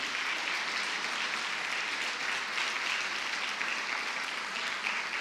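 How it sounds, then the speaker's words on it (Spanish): A church congregation claps steadily for several seconds, a dense even wash of applause at moderate level, continuous without a break. "Dale un aplauso fuerte al Señor."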